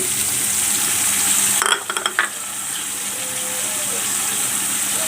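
Chopped banana stem dropped into a hot frying pan with dried fish, a loud steady sizzle that abruptly cuts out, a brief burst of clattering pieces and scraping, then a quieter renewed frying hiss.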